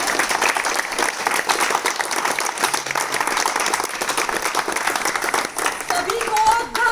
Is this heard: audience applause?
yes